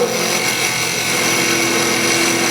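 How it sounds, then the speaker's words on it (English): A parting tool cuts into a spinning wood Christmas ornament blank on a lathe, giving a steady, loud, continuous scraping whir that stays even and close throughout. "This is called a parting tool."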